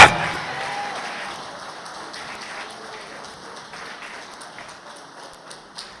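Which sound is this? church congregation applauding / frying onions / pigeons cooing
church congregation applauding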